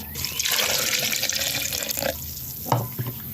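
Water pours steadily into a blender jar, a close splashing gush that runs throughout with a brief louder splash near the end.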